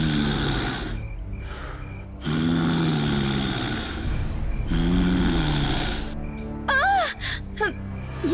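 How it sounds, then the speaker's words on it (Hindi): Heavy, drawn-out breaths rasp in and out several times, eerie and close, followed by a few sharp whistling tones near the end. "लेकिन वही सांस लेने की आवाज आने लगी।"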